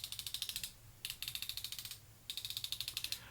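Ratchet knee joint of a Tyrannosaurus Warrior toy action figure clicking in three quick runs of crisp, evenly spaced clicks, close and clear, with short pauses between runs.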